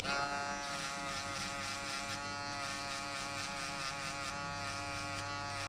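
A steady, close electric buzz from a hair shaper clipper runs without pause as it cuts hair during a burst fade haircut.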